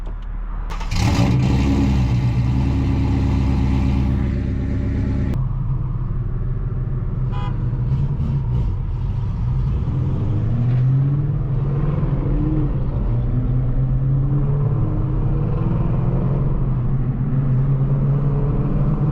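Toyota Supra engine cranking and catching, then idling and revving with a deep rumble, loud and close, with a brief tooting sound partway through and no voices.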